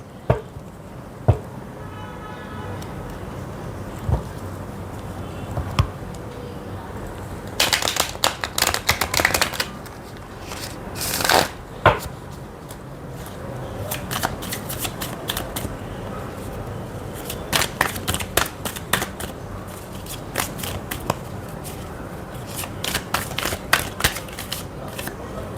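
Tarot cards are shuffled in repeated bursts of crisp riffling and slapping, with quiet gaps between the flurries and no talking.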